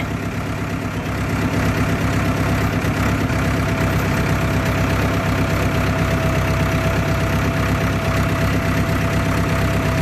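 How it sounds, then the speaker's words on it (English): A tractor engine runs close and loud, with a dense, steady rumbling drone that holds unbroken from start to finish and no voices over it. "now I'm driving the tractor"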